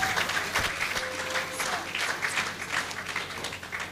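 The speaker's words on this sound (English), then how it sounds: "Please, a round of applause for this accolade." A university convocation and Founder's Day crowd at Caleb University breaks into a round of applause. The clapping is full and uneven, with a few voices and a brief tone rising over it.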